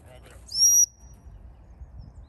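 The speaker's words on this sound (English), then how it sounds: "So now I'm going to put the whistle on." A gundog stop whistle gives one loud, short, high-pitched blast during a dog training session, followed by quiet outdoor background.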